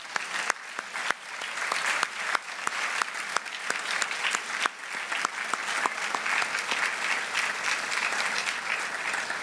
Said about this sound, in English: Would you join me in a round of applause for our delegates?